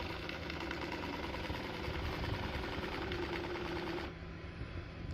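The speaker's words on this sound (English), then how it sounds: "Then slowly parks back into its spot where it can self-empty, charge up" A Shark AI Ultra robot vacuum moves back to its self-emptying dock with a steady whirring motor drone and a faint rattle, cutting to a quieter hum near the end.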